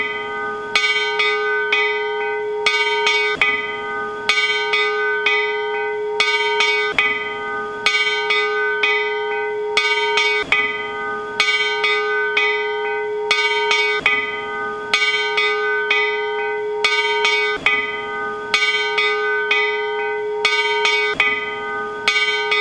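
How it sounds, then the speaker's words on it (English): A large machinists' union bell, the refurbished IAM District 19 bell, rings loud and close in steady, evenly spaced strokes, each ringing out before the next, with no voices. "a bell famous for ringing in some of the most important meetings of machinists anywhere in the world"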